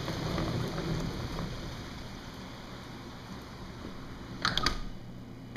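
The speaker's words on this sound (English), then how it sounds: "all of a sudden the heavens just opened up and the rain came out" Heavy rain pours down outside in a dense, steady hiss, with a brief burst of louder crackling spatter near the end and no voices.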